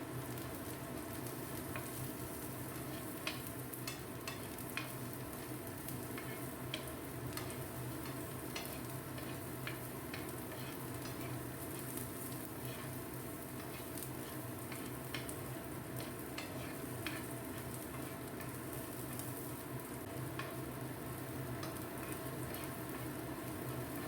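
Dry fruits fry gently in ghee, giving a faint, steady sizzle with scattered tiny pops and occasional stirring, heard alone without talk.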